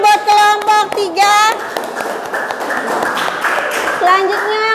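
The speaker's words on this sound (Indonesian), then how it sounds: "Tepuk tangan buat kelompok 3." Applause from a classroom audience for a student group, with brisk clapping under a loud voice and children's chatter close by.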